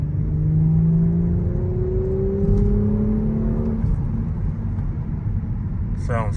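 A 2023 Audi S5's engine pulls hard under acceleration, rising tones climbing through gears over a deep rumble, loud and close, easing off near the end with a brief voice at the finish.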